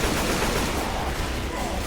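Heavy, unbroken gunfire in a video game, a dense, loud roar of rapid shots that runs without a break.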